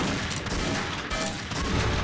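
Sniper rifle shots and surrounding gunfire crackle continuously in a video game deathmatch, loud and dense with no clear gaps between reports.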